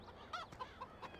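Chickens in the Farming Simulator 17 game on the Goldcrest Valley map: a few soft, short clucks spaced across a second, faint and nearby, with no talk.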